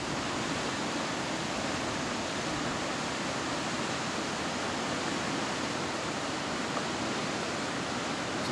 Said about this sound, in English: You hear the water rushing through it.